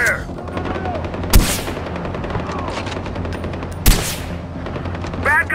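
Gunfire in the video game Far Cry 4, with a continuous crackle of distant shots broken by two sharp, loud close blasts, while game voices call out over the noise.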